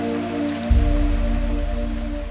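Steady rain in the video game Fantasian Neo Dimension patters and hisses on a surface, with a low rumble swelling in partway through under a faint musical hum.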